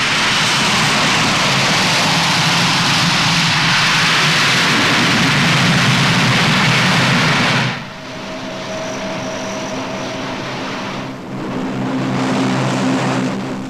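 Engines of a Lockheed Hercules military transport aircraft, a loud, close, continuous propeller roar that drops suddenly to a lower droning hum with a steady tonal whine, then swells slightly again.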